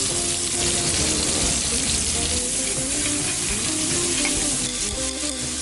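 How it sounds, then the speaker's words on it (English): Rosemary and pepper toast in a pan on a portable stove, giving a loud, dense, continuous sizzle with crackling and stirring throughout. "These two, the rosemary and the pepper, are the largest, so I'm going to toast them in first."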